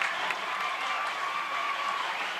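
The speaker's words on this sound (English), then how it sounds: "First Colonial crowd trying to get their team pumped up" Home crowd for the First Colonial Patriots cheering and clapping in the stands at a high school baseball game against Kecoughtan, a steady, continuous wash of crowd noise with no single voice standing out.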